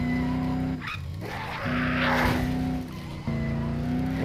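A car in the video game Dead Island drives with a steady engine drone, broken by two bursts of tire skidding and scraping, loud and close throughout.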